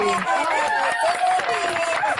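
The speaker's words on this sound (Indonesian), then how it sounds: "Tepuk tangan buat Bu Uti yang cantik dan baik hati." A gathering of Christian women breaks into applause and cheering, a steady mass of clapping with voices calling out throughout.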